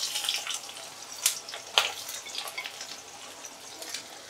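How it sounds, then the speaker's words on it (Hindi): Sliced onions fry in hot oil with panch phoron over a high flame, making a soft, airy sizzle with a few sharp crackles and pops near the start before it settles down. "प्याज को हाई फ्लेम में बस हम 1 मिनट पहले फ्राई करेंगे"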